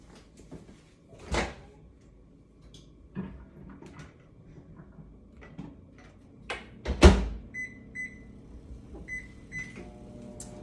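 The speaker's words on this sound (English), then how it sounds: "so 5 minutes in the microwave" Kitchen handling sounds: a microwave door clunks shut on a lidded gluten-free pizza dish, scattered knocks and thumps, then several short electronic beeps as the microwave is set for five minutes.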